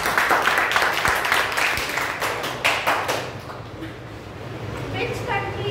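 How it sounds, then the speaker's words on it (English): A group claps together at an interview session, a dense patter of hand claps for the first few seconds that thins out and dies away into quieter room sound. "Okay, let us clap."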